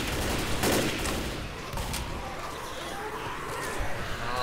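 Rapid pistol gunfire in the co-op zombie shooter Left 4 Dead, dense and continuous over loud game noise, with overlapping shots and no clear pauses.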